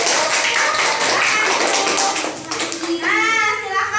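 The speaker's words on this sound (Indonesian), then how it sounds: "Tepuk tangan buat teman kita." Schoolchildren in a classroom clap for their classmates, a burst of close, lively claps that tapers after a few seconds, followed by children's voices chanting or speaking.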